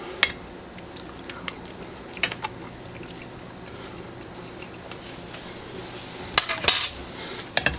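A small spoon clinks against a cooking pot of creamy peas and onions, with a few sharp isolated taps spread out and a brief cluster of metallic scrapes near the end, over a quiet kitchen background.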